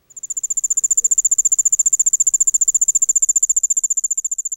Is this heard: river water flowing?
no